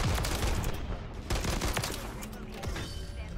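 Rapid gunfire in Call of Duty: Modern Warfare III, with dense overlapping shots and bursts at close range, loud and continuous throughout, with game effects mixed in.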